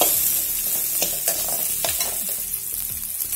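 Cumin, fennel, peppercorns and poppy seeds sautéing in a pan for a goat trotter curry make a dense, close crackling sizzle, with repeated spoon scrapes stirring through it.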